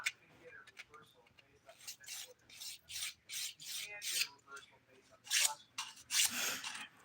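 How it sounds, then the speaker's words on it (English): A nail file rasps back and forth along the edges of fingernails, starting at the pinky, during an at-home dip powder manicure: quick, rhythmic close-up strokes in short bursts with brief pauses. "I always start my filing with my pinky as well."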